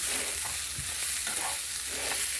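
Food in a pan being stirred, a brief close burst of continuous scraping and sizzling with a few soft rhythmic strokes, no voices.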